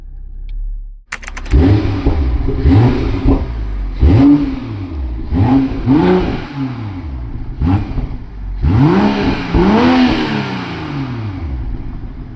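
A BMW M440i with a B58 engine and a Valvetronic Alibaba catback exhaust starts with a crackle, then revs repeatedly in sharp rising and falling blips, loud and close, ending in longer, heavier rev pulls.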